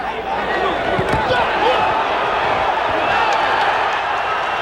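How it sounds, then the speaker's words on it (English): An arena crowd at a Sugar Ray Leonard vs Floyd Mayweather Sr. boxing match roars loudly at an apparent knockdown, a broad sustained swell of yelling with a few thumps, under continuous commentary. "Crowd yells, but that was a slip. Crowd thought it was a knockdown."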